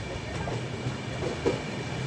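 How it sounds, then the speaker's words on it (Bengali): A train rolls through Dankuni junction, a steady rumbling wheel-and-carriage roar heard from on board, with a faint clack near the middle of the run. "দেখুন এখন ডানকুনি জংশন পেরোচ্ছে।"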